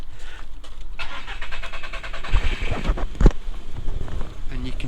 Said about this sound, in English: and if we start it up